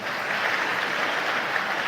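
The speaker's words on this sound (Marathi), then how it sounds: "त्यांच्यासाठी आपण सगळ्यांनी एक जोरदार टाळ्या वाजवा." An audience at a kirtan event at a nursing college in Kopargaon claps together in a dense, steady wash of applause that holds even throughout, with no talk.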